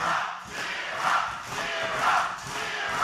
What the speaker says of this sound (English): listen to the crowd here. Listen to the OVW faithful.